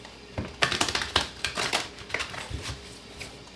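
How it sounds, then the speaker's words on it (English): Tarot cards being shuffled by hand, a rapid run of crisp, riffling flicks and taps close by, irregular bursts over a few seconds with no talking. "Two more shuffles."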